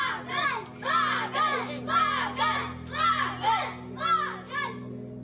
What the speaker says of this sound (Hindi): बच्चे चिल्लाते हुए, शोर मचाते हुए उसके पीछे भाग रहे थे